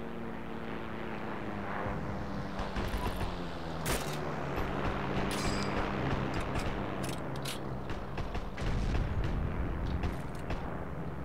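An explosion amid a World War II battlefield in Heroes & Generals, a dull boom landing over the steady drone of propeller aircraft, with scattered rifle shots and sharp cracks around it at mid-distance.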